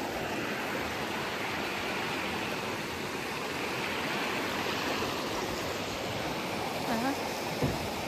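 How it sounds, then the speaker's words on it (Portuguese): Water rushes constantly below a viewpoint near a lake, a steady broadband flow that stays even and fairly loud throughout, with a brief voice sound near the end. "temos água aqui debaixo"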